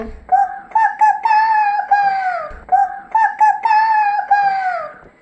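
A person mimics a rooster's crow twice in a row, each a rising, wavering cock-a-doodle-doo call, loud and close with a brief pause between.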